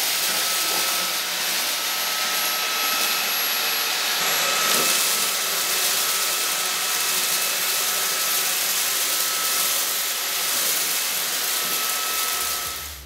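A Catchwell CX PRO cordless stick vacuum runs steadily on a floor, a continuous high-pitched motor whine and airy suction roar that holds level throughout with a slight swell midway as it is pushed along.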